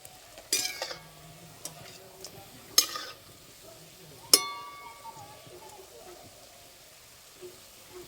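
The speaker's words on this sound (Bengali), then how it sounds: "এবার ছাঁকনি করে নাড়বো।" Palm fruit fritters fry in oil and are stirred with a metal strainer, a soft sizzle under three sharp metallic clinks against the pan, with faint scraping in between.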